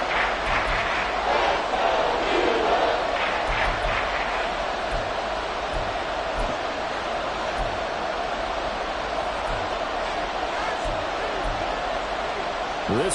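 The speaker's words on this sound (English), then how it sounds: "This crowd doing all they can." Steady, dense stadium crowd roar from the Madden football video game late in a tied game, a continuous wash of cheering and noise that stays loud throughout without dying down.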